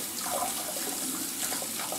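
Hot water runs from a tap in a steady, close, broadband rush that stays even throughout, with no voices.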